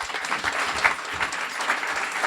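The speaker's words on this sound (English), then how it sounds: "a warm round of applause for Kathy" A graduation ceremony audience at a guide dog school gives a warm round of applause, a steady wash of hand claps from a large crowd at moderate distance.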